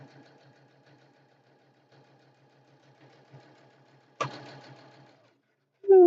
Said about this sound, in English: It's hard for you guys to hear anything when I'm sewing,